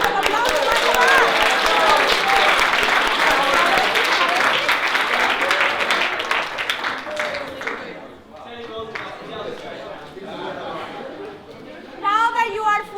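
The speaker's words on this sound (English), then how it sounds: "Give yourself a big round of applause." A crowd breaks into loud, sustained applause with scattered cheers, thinning out after several seconds before a short final burst of clapping.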